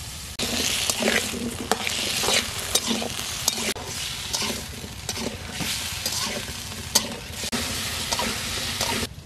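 Potato pieces frying in hot oil in a pan, a steady close sizzle with intermittent stirring clinks and scrapes throughout, no talking.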